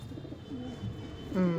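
Pigeons in a loft giving soft, low throaty coos, one rising call standing out near the end, close by over faint background murmur.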